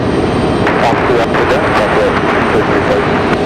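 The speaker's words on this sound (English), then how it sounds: "Looks like we got one of our FedEx ATRs coming in here just behind this arrival" A FedEx ATR turboprop arrives at Raleigh-Durham International Airport, a steady broadband engine roar that stays loud and constant throughout.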